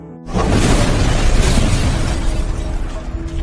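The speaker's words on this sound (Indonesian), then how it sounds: "Terlihat Pak Dikopet akan meledak dan akhirnya si Kopet meninggoy dan terbakar bersama rumahnya." A house blowing up in the slasher film Lumberjack Man: a sudden loud blast followed by a sustained, dense roar of burning and debris that stays loud for several seconds, with no voices.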